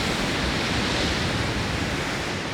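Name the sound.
big ocean waves coming in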